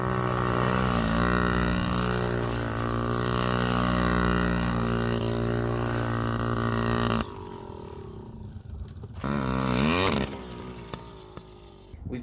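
A Yamaha PW50 kids' motorcycle idles and revs loudly up close, its small two-stroke engine buzzing with rising and falling pitch, then cutting down and surging again in short bursts.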